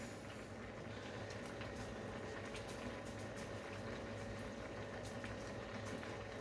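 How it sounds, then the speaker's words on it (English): Juice hits a hot skillet of pork and sizzles in a home kitchen: a steady, dense, fairly quiet hiss that continues evenly throughout with no pauses. "So I'm going to put some juice in."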